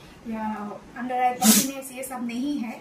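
One quick, sharp sneeze from a woman bursts out mid-sentence while she keeps talking in Hindi before and after it.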